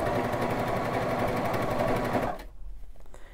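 Sewing machine stitching a square-neckline shirt runs in a steady, rapid, close-up whir for over two seconds, then stops abruptly, leaving faint handling noise.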